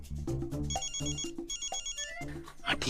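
A mobile phone ringtone plays a repeating melodic electronic pattern, clear and fairly close, with no talking over it.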